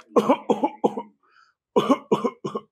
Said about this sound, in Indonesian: Nah yang keempat adalah batuk.